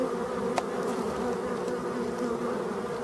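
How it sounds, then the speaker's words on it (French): Steady insect buzzing from a bumblebee arriving at the entrance of a hive of black forest honeybees, holding close and continuous throughout with no talking. "un bourdon, on voit rentrer, il faut avoir l'œil"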